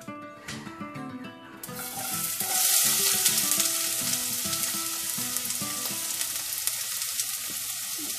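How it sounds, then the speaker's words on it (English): Onions frying in a couple of spoons of oil in a hot pan, a steady loud sizzle that swells after a brief quieter start and holds with light crackle throughout, no talking. "we're gonna fry some onions first"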